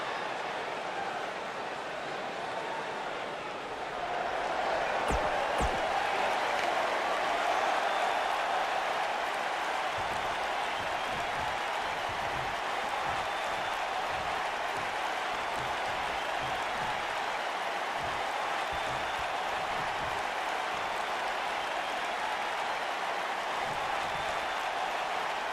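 A large arena crowd in the wrestling game WWE 2K19 keeps up a steady wash of cheering and applause for the full stretch, swelling after a few seconds and staying dense and continuous with no talk.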